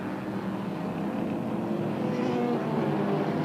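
Holden Commodore and Monaro race cars in the 1984 Australian GT Championship at Adelaide scrap past as a dense, continuous engine roar heard at a distance, steady in loudness with a faint rising whine near the end.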